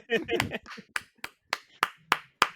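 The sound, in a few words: quiet golf clap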